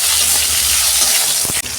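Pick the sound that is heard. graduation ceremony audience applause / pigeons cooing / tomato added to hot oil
tomato added to hot oil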